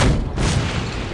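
A grenade launcher round detonates in No One Lives Forever, a single heavy boom that rolls into a sustained low rumble, loud and close with no talk.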